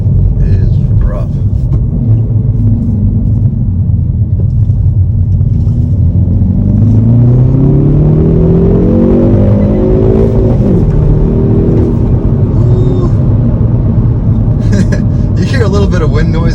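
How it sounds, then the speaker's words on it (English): Inside a 2022 Hyundai Veloster N with a 6-speed manual on the move: loud, steady road and wind rumble fills the cabin while the engine note climbs and falls through an acceleration, with a brief hiss near the end. "You hear a little bit of wind noise once you get up in speed a little bit too."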